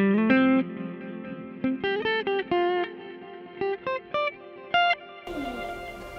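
An electric guitar through a Kemper profiler running a Mesa/Boogie JP2C preset plays distorted single notes and short phrases, starting with delay repeats then turning dry, with a brief noisy tail at the end.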